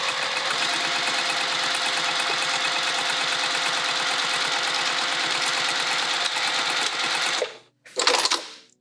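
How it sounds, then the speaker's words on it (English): A sewing machine stitches a tote bag seam in a steady, loud, continuous whir for about seven seconds, then stops briefly and gives one short final burst. "So I just lift the foot, lay it back down, keep sewing."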